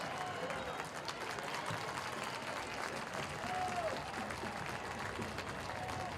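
Stadium crowd clapping during a women's professional soccer match between North Carolina Courage and Houston Dash, a broad, distant wash of applause and crowd noise with faint whistle-like tones.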